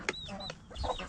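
A hen named Lucky clucks sharply while pecking at chicks near a feed trough, a few short, close, agitated bursts.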